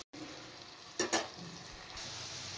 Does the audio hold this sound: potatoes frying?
yes